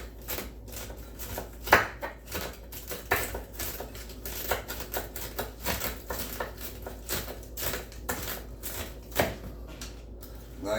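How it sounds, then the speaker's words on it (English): A knife cuts through crispy bacon on a board in a kitchen, giving a string of sharp, crackly chops and crunches at an uneven pace, close and moderately loud with no talking. "So we're gonna cut the bacon."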